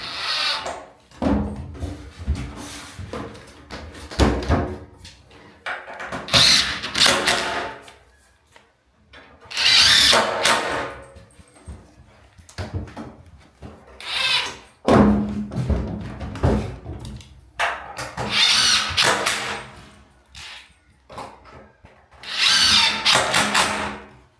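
A power drill drives 1.5-inch screws into the boards of an 8-foot panoramic barrel sauna porch in repeated bursts, each whirring run followed by handling thunks and pauses, fairly close.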